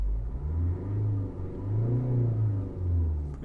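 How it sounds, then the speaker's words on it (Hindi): A parked Hyundai Creta idles with a steady low engine rumble that swells and eases in slow waves, close and continuous, with no talk over it. "गाड़ी अपनी खड़ी है स्टार्ट, किसी भी तरह की आपको इसमें वाइब्रेशन वगैरह कुछ भी नहीं है"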